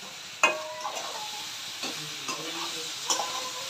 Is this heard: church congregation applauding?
no